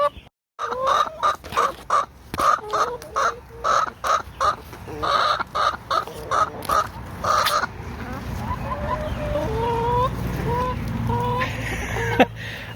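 Chickens clucking in a chicken yard, a rapid series of close, loud clucks and calls in short repeated bursts, then softer drawn-out cackles trailing off.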